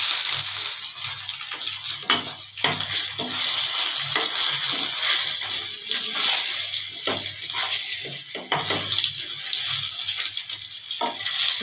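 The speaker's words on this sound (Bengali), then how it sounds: "সেদ্ধ করে রাখা আলুটা একটু ভেজে নিচ্ছি।" Boiled potatoes fry in oil in a pan while a Bengali fish jhal is being cooked, giving a steady, close sizzling hiss with small crackles throughout and no talking.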